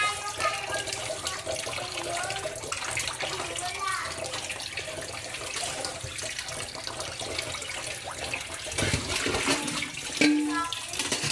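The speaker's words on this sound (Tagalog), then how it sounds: "habang lagyan natin ng tubig" Water, likely poured into a cooking pot while bullet tuna is being prepared, runs as a steady splashing stream for the whole stretch, fairly close and moderately loud, with a few clinks near the end.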